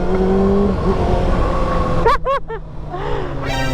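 A 2024 Kawasaki ZX-6R sport bike engine drones at speed, then blips sharply through a few quick rising revs during a downshift attempt without an auto-blipper, before settling back into a steady hum.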